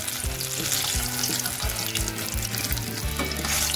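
Fish pieces fry in hot oil until red-brown, a loud, dense, continuous sizzle and crackle close by, with a few faint bumps of handling.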